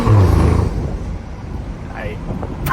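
BMW F30 fitted with an XHP transmission tune downshifting: a low engine drone heard from inside the cabin fades slightly, then a short rising rev blip comes near the end.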